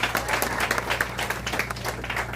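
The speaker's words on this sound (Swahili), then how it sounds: "Tupigieni huyu mwalimu makofi mazuri" A crowd applauding a teacher at a church-linked gathering, with steady, fairly close clapping that keeps going over a low hum.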